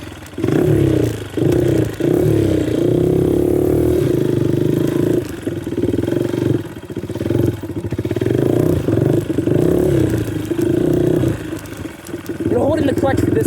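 A Honda dirt bike engine revs close up with loud, rough roaring and clattering in repeated surges and brief dips, while people talk over it.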